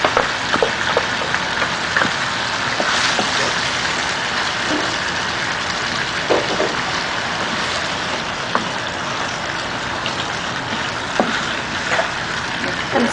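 Onion, tomato and yogurt paste for chicken curry sizzles in a pan, a steady dense crackling hiss with scattered sharper pops throughout, close and fairly loud, with no talking.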